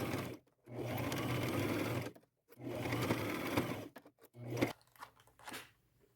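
Sewing machine stitching a fabric hood seam at a quarter-inch allowance, running in two long steady bursts, then short stop-start runs, close and clear.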